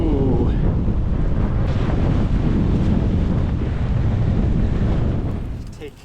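Strong wind roars and buffets a microphone almost nonstop during rain at a camp, a dense, rushing blast that eases off only at the very end.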